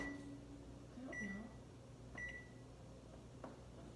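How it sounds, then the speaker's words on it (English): A microwave oven runs while melting butter, a low steady hum under a few short electronic beeps and quiet kitchen clatter, with no talking. "I'm throwing it in the microwave to melt it."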